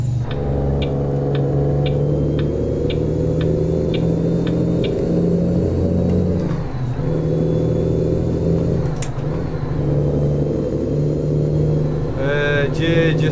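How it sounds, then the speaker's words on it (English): A heavy Freightliner truck engine in the video game American Truck Simulator rumbles steadily, and the revs rise and fall in a few short throttle blips while downshifting under a continuous drone. "If you blip the throttle on the way down, it sounds good."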